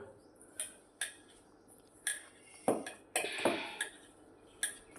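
Fritter batter being mixed in a bowl with a spoon, a handful of sharp clinks and scrapes against the bowl at irregular intervals in an otherwise quiet room.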